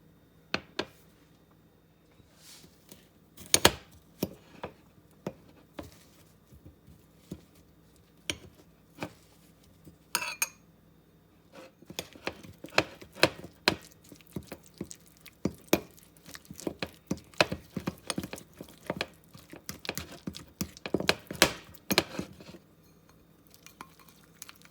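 Butter mixed with measured spices in a bowl gives off scattered clinks and scrapes of a utensil against the dish, sparse at first and then busier and more rapid, close and fairly quiet.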